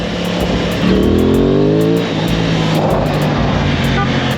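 A small blue Audi passes nearby on a road during a Sunday motorbike ride in Guadeloupe, its tuned engine rising in a brief revving whine over steady road and wind noise.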